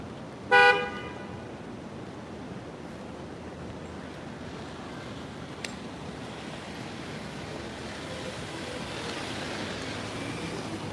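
A car horn gives one short, loud honk near the start on a Manhattan street with a 5 mph local-traffic limit, followed by a steady wash of street and wind noise.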